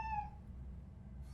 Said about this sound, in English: What was that? Probably the cat